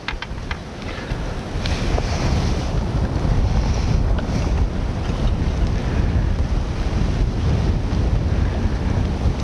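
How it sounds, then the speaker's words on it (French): Strong wind buffets the microphone beside a lake during feeder fishing for bream, a steady loud low roar with gusty rumble throughout, no talk. "Ah, ce vent, la vache."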